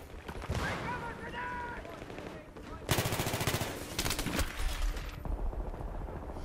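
Bursts of automatic gunfire from a weapon in the shooter game Battlefield 3, rapid loud volleys that start after a quieter stretch and keep going in clusters, with game effects and chatter mixed underneath.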